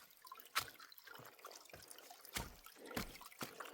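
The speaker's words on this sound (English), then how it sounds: "I hear the water. Oh, we have good flow right here." Faint water trickles and babbles steadily beside an Appalachian Trail shelter in North Carolina, with a few louder splashes or knocks breaking through the quiet flow.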